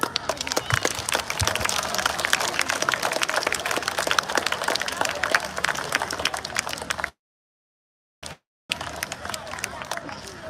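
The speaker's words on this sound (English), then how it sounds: "why don't we invite the little Dipsite with a big round of applause on the dais?" Applause at a school Math Day celebration as a child is invited onto the dais: a dense wash of clapping and crowd noise for several seconds, cut to silence, then resuming briefly.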